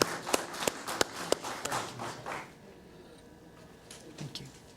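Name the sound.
applause at board meeting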